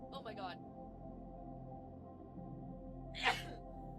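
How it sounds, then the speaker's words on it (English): A single sharp human sneeze bursts out near the end. A short vocal sound comes earlier, over a quiet background hum. "I'm gonna sneeze."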